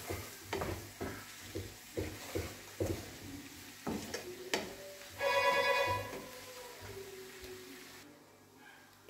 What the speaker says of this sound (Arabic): وغنبدا نحرك هنا في الخليط ديالي